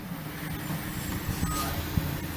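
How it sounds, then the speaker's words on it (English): Trucks rumble outside at a distance, a low steady drone with a faint high whine and a couple of brief knocks, no voices over it. "them trucks making noise out there"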